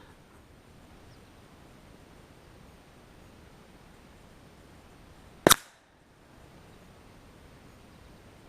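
A .22 AirForce Condor air rifle fires a single cast slug, one sharp, loud crack standing out against a steady faint background hiss, followed by brief quiet.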